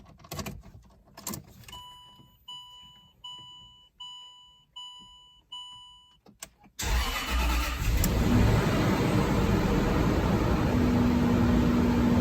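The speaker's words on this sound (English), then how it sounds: "Let's start her up." A Land Rover LR3 with a 4.4L V8 starts up: keys jangle and a series of dash warning chimes sound, then the engine cranks and catches into a loud, steady close idle.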